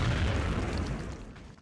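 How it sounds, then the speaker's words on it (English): Grenade explosion in XCOM: Enemy Within, a single heavy boom with a deep rumbling tail that fades over about a second and a half, loud and close. "Fonda's going to have to move up and throw a grenade"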